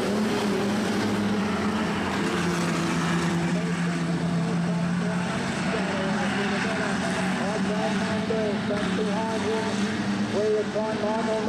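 Street stock race cars at a speedway roar around the track, a dense sustained engine drone with pitch rising and shifting as cars accelerate, and a commentator talking over it.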